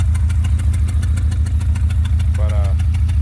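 Honda EG hatchback engine idling after sitting unused for years, a steady low rumble with rhythmic ticking, running continuously and close by, with a brief tonal whine near the end.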